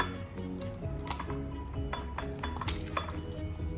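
An egg being whisked in a bowl for a spinach omelette, a run of quick clinks and taps against the dish, fairly close and steady, with no talk over it.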